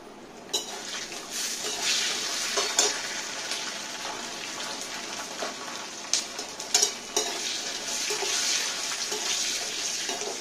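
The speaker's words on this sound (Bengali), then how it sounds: "তেলের মধ্যে বাদামটা ভাজলাম" Nuts sizzle steadily as they fry in oil and are stirred, with a continuous crackling hiss broken by sharp scraping clinks from the spoon against the pan.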